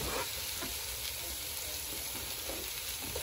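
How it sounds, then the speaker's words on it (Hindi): Sliced bell peppers sizzle and fry in a pan with diced vegetables for a cheesy chicken dish, a quiet steady crackle with soft stirring scrapes now and then. "We're just going to add the peppers in and mix that in really well."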